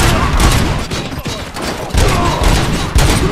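Rapid bursts of gunfire from the Robocop Rogue City video game, loud and dense, with heavy thuds and booming impacts layered over a continuous clatter of shots.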